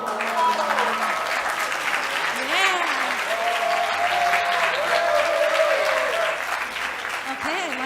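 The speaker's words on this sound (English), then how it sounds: "I like that applause" Audience applause for a photo at a farewell gathering for exchange students, steady clapping throughout with voices and whoops mixed in over it.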